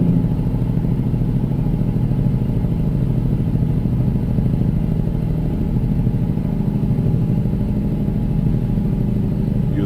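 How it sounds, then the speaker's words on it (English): A truck engine brake (Jake brake) in American Truck Simulator gives a continuous low, rumbling, clattering drone while descending a grade at speed, steady and loud for the whole stretch with no talking. "Use the good old Jake brake"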